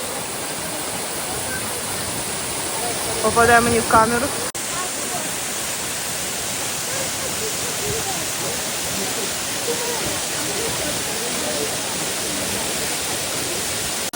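The Zhenetskyi Huk waterfall in the Carpathians roars with steady, broadband rushing water throughout, while a person speaks briefly over it near the start.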